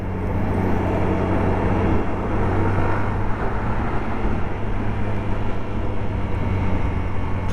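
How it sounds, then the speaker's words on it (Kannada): Hero Xtreme 125 motorcycle accelerating from a standstill toward 60, with steady loud engine and road noise and a strong low drone throughout, recorded close with no talking. "ಸೊ ಒಂದು ಸಲ 0 to 60 ಮಾಡೋಣ ಬನ್ನಿ."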